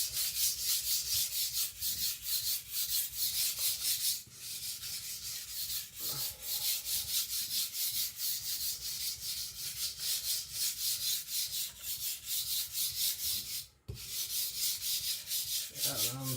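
A blade is sharpened on a soft, muddy whetstone that sheds abrasive like binderless clay, giving a long run of rhythmic, gritty rubbing strokes at close range with a few brief pauses between passes.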